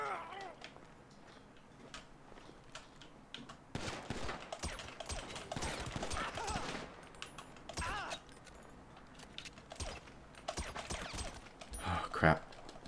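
Gunfire in a GTA 5 zombie apocalypse mod, scattered bursts and distant rapid shots mixed with game noise, mostly in the middle section, with someone talking over it at times.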